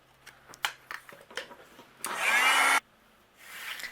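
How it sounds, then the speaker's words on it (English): A heat gun melts craft material for a stamped paper card, letting out a loud, steady blowing whir for just under a second after a few light handling clicks and taps. "I'm going to use my heat gun and melt this"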